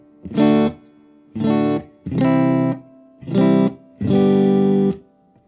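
Five separate chords strummed on a Crate V18 amplifier's clean channel and left to ring, each a couple of seconds long with short gaps between, bright and sustained with a touch of spring reverb.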